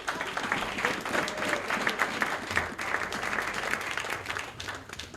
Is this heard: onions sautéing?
no